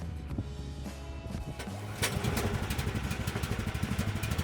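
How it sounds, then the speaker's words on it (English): A small, cheap snowmobile engine with electric start catches and settles into a steady, loud running clatter with rapid pulsing, close by and without talk. "let's start the engine"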